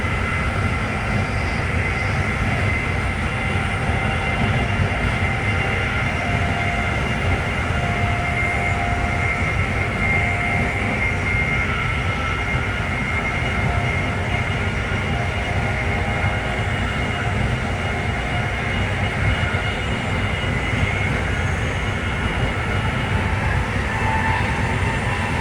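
An Amtrak train heading from New York to Philadelphia rolls fast along the tracks, heard from inside as a loud, steady roar of wheels and rail noise with faint tonal hums, continuous and unbroken.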